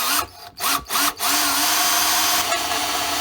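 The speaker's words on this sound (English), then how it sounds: "Now we got our drill bit. Let's see if this works." Power drill boring holes through a rusted car battery tray on a Volkswagen Golf MK2, a loud steady whine in bursts that settles into one continuous run of drilling.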